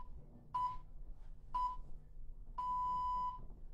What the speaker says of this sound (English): You'll hear three beeps.